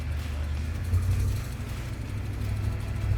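A big block Chevrolet El Camino being driven gives off a low, steady mechanical rumble from its rear end and drivetrain, heard close and continuous with slight surges.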